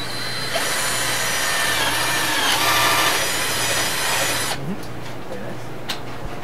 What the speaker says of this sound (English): You would go ahead and drill a nice clean hole for me?